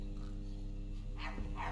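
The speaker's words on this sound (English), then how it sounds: "Oh no, there's a dog in here." Dog in the video game My Friendly Neighborhood, a faint low growl or bark under a steady hum, with a brief yelp-like burst near the end.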